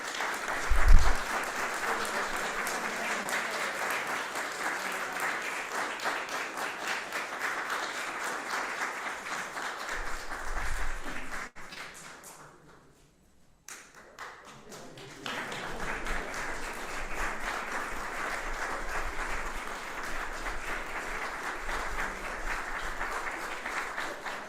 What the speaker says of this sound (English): Thank you for the enthusiastic applause.